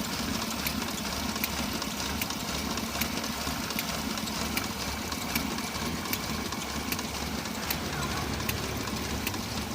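A Suzuki Carry engine idles steadily with its cooling fan running, making a dense, even mechanical rumble with a faint regular ticking throughout and no talking.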